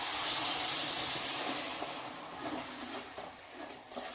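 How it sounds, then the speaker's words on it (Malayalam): Water poured into a hot pan of roasted vermicelli for semiya payasam gives a loud, broad steamy hiss that peaks at the start, then eases into a softer, fluttering sizzle. "ശകലം വെള്ളം ഒഴിച്ചു"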